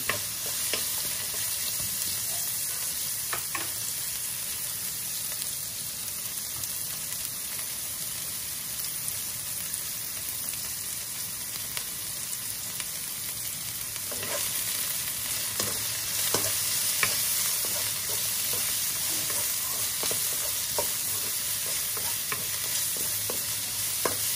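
Chopped onions frying in hot oil for Bicolano-style igado, a steady close sizzle with repeated scraping and clinking of a spoon stirring through the pan, no voices.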